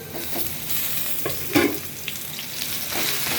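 Boiled taro leaf greens hit hot oil with plenty of garlic and onion, giving a steady close sizzle with scraping stirs and a brief louder burst partway through.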